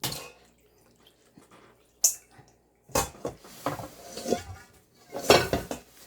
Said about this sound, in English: now we're going to scoop them, and I'm just gonna mix the garlic on it